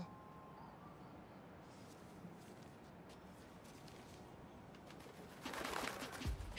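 A pigeon coos faintly in the video game Spider-Man: Miles Morales, low and soft against steady city ambience, before a louder rushing noise swells near the end.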